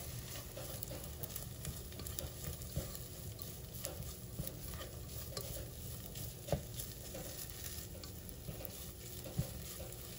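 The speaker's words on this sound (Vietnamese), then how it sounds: "Bây giờ nó sôi nè, để mình chỉ cho nó nóng lên." Water boiling in a pot used for steaming during home cooking: a faint, continuous bubbling and crackling texture with small irregular pops, fairly distant and quiet, with no voices.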